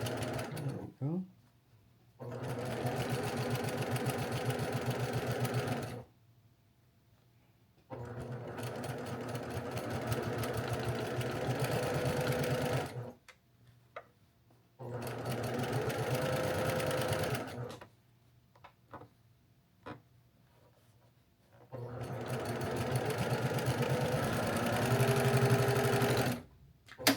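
Sewing machine stitching a quilt block, four long runs of steady, close mechanical whirring separated by quiet pauses, with brief handling noises between runs.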